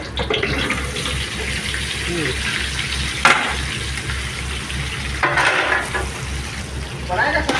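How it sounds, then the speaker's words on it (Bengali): Bay leaves and whole garam masala spices sizzle steadily in hot oil, a close, continuous frying hiss with a low hum underneath and brief clatters as more goes into the pan. "তেল গরম হয়ে গেছে। এখন দিয়ে দেবো এর মধ্যে মানে সোরা তেজপাতা আর গোটা গরম মশলা"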